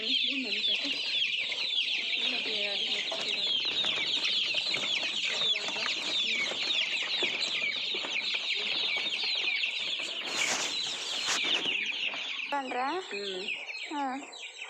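A flock of two-to-three-week-old chicks raised from hatchlings peeps and clucks continuously, a dense high chirping chorus close by, with a person talking briefly over it.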